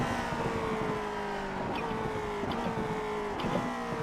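A race car engine in a racing video game drones steadily at the Daytona road course, its whine shifting slightly in pitch as it holds a continuous, moderately loud tone with a couple of faint clicks.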